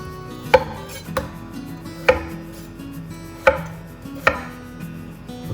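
A knife chops celeriac on a cutting board, with about six sharp, evenly spaced thuds over a low background hum, close and clear with no talking.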